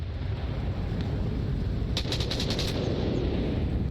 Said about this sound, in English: He's shooting those metal shacks because they are penetrable.